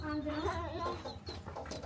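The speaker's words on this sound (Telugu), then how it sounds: "ఇగో చిన్న కోడి పాపాలు యాదుకుంటుడు" Little chicks cheep and chirp close by in quick, high calls while people talk over them.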